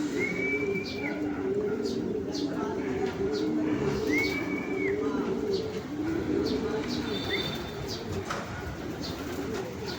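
Pigeons coo in low, repeated rolling calls amid a busy outdoor murmur, with occasional higher chirps and whistles above.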